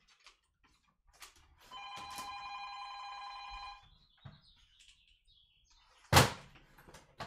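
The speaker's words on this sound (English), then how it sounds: "This phone is not hooked up and it's ringing." A single long burst of electronic ringing from an unplugged landline telephone lasts about two seconds, close and clear, followed by a faint chirp, a knock and a sharp thump near the end; no one speaks.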